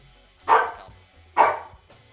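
A dog gives two loud, close barks about a second apart, with a short quieter sound trailing after each and near-silence between.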